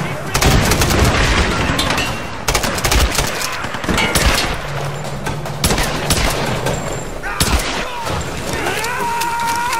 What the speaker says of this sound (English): Shotgun! Told you! It's a shotgun.